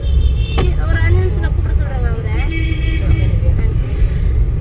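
A car engine rumbles low and steady in second gear during a driving lesson, heard from inside the cabin while people talk over it.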